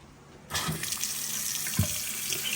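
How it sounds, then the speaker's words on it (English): Running water from a bathroom sink faucet starts abruptly after a brief quiet moment, then pours in a steady, close, hissing stream with a small knock partway through. "Forgot we had our bathroom sink on too"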